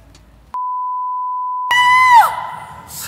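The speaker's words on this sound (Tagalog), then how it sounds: "Sigaw ka ng sigaw." A person screams loudly in a comedy skit, a sustained yell that breaks in after a long steady censor-like beep tone and then trails off, with rough noise underneath.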